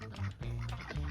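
Ducks quack close by in a few short, nasal bursts, loud and choppy, with no other sound around them.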